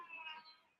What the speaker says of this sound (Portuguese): Tem uma gatinha aqui miando, gente.